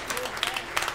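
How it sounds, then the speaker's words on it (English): Scattered hand claps from a church congregation during a worship service mix with voices in a brief burst, sounding close and lively. "give the Lord a hand clap of praise today"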